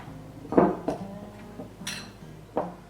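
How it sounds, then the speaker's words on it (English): A spoon clinks and knocks against a bowl while pumpkin bun dough is stirred, a few sharp irregular taps with quiet scraping between them, close and with no talking. "now I'm gonna just stir all this together until it starts to form a dough"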